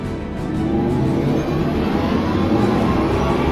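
The Audi e-tron GT electric car gives off its digitally designed drive sound, a loud, continuous synthetic whir and rumble that swells slightly and holds steady, with no talking.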